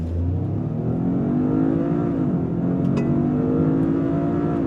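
A Toyota GR Corolla automatic launching hard under launch control, its engine drone rising steadily in pitch as it accelerates, loud and close from inside the car with no talking.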